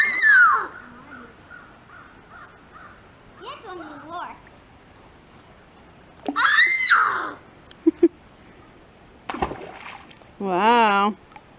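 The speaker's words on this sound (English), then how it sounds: "Will you hear the bird?" A bird gives several harsh, cawing calls, spaced out with quiet gaps, fairly close and loud, amid light outdoor background noise.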